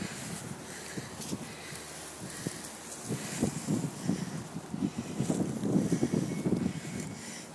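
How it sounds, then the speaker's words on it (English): Wind blowing outdoors at noon on a dry, pretty windy day, a steady broadband rush with gusty low buffeting against the microphone, rising toward the end, with no talking. "it's noon, dry, pretty windy"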